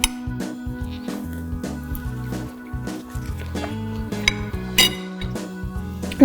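A fork clinks and scrapes against a plate of warm kale, quinoa, chickpea, fennel and coriander salad, giving close, irregular metallic taps and clatters with a soft background hum.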